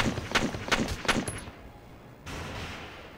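Gunfire in the Valkyria Chronicles video game: a rapid burst of four or five loud rifle shots in quick rhythm, a brief pause, then a softer sustained hiss of battle noise, no talking.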